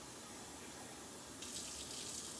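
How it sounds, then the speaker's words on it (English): Tap water runs into a measuring cup in a home kitchen, a steady hiss that swells into a brighter, louder splashing gush partway through, close and alone with no talking. "I am going to fill my measuring cup with 1/3 cup of water"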